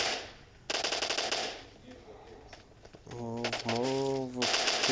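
Gunfire while shooting zombies in PUBG, bursts of rapid automatic shots alternating with quieter gaps, plus a short burst of high tonal effects near the end.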